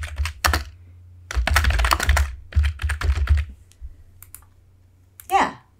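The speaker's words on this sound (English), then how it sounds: "And now if I type in address" Typing on a computer keyboard: close bursts of rapid key clicks with pauses between them, and a low hum underneath.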